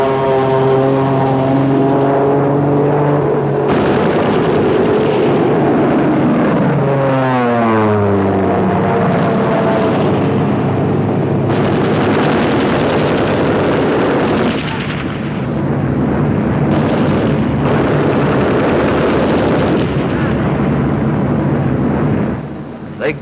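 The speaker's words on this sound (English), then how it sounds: "They're going to strafe those babies." A-36 dive bombers roar overhead while strafing a German pillbox, propeller engines droning loud and close, the pitch sweeping and falling as one dives past, with bursts of gunfire and explosions in a dense, continuous wartime din.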